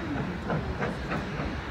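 Georgetown Loop Railroad train rumbling across a bridge, a steady close mechanical roll with hiss and rattle, no talk.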